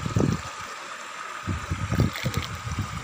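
Shallow, clear river water running low in summer, gurgling and trickling close by in uneven bursts with splashy rises as it is disturbed, and a short quieter gap near the middle.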